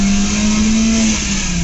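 A 2003 Maruti Suzuki Zen VXi engine with 175,000 km on it hums loudly and steadily at high revs, its tone holding level and then dipping slightly near the end.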